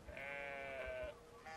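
Sheep in Brothers: A Tale of Two Sons bleat in a sustained, wavering cry that breaks briefly near the end before a second bleat starts, close and fairly loud.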